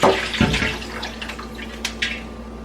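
Pork broth poured out of a crock pot, a short gush of liquid splashing at first, then a softer trickle with a few light clinks.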